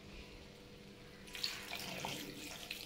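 Water from a yogurt bowl is poured into a pan of soybean curry, starting partway through as a steady, close splashing stream with small bright splatters, alone without talk.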